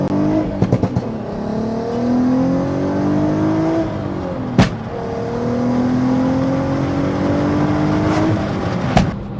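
Stage 2 tuned VW Golf R32 MK5 engine revving hard through the gears, rising tones broken by sharp pops and thumps at each shift, loud and close with no talk.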